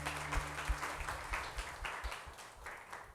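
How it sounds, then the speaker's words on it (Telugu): A church congregation at a Telugu communion service claps together in an even, rhythmic beat, steady and moderately distant, with a faint voice and a low hum beneath. "అందరూ చప్పట్లు కొట్టి ప్రభు నామములో"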